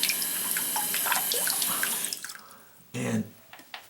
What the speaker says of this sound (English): That's water coming straight out now.